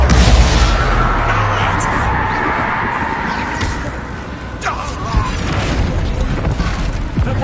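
A Bombarda blasting spell goes off in Hogwarts Legacy: a loud, dense rumbling boom opens the clip and fades into a sustained roar with scattered crackles and thuds, and a voice is present in the mix.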